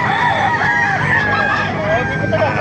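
A rooster at a market in Calumpit, Philippines, crows loudly and close, its drawn-out call filling the clip over busy background noise and faint voices.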